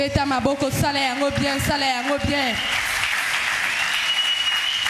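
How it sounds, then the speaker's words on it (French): A church congregation breaks into loud, sustained applause that fills the room, following a few seconds of a voice speaking. "Nous acclamons très fort."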